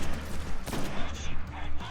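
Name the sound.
grenades exploding in the video game Destiny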